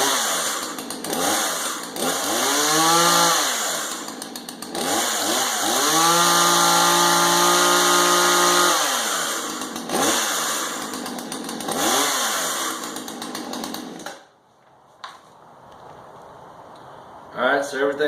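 A Husqvarna chainsaw fitted with a new clutch assembly runs close and loud, revving up and down in repeated bursts with steady idling between, then cuts off near the end.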